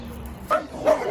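Shelter dogs give two short yips or barks close by, a quick pair over a steady low background hum.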